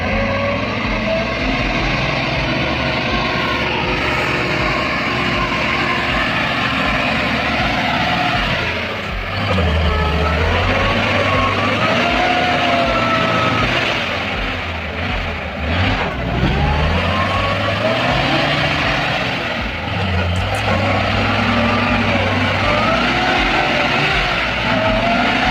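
A truck engine drones steadily and close, with shifting low rumbles and revving as the vehicle moves backward, continuous for the whole stretch with no talk.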